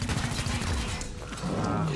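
Gunfire from the video game XCOM: Chimera Squad, a dense burst of loud shots and impacts that fills the short clip and sits over game noise and faint voices.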